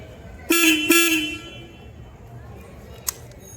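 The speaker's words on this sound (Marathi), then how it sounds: "ह्याला हॉर्न देऊया परत आपण" A car horn honks twice in quick succession, two short, loud, close blasts, while someone waits on a late colleague. A faint click follows later over a low background murmur.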